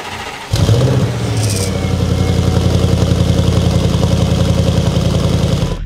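A tuned Audi S6 with a Unitronic Stage 1+ tune fires up and pulls away, its loud, close engine droning steadily as the car sets off, with a brief higher whine near the start.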